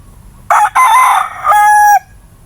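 A rooster crows loudly and close by, one long strained call broken into a few sustained segments, with nothing else heard.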